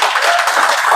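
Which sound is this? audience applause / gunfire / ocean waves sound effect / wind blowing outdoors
audience applause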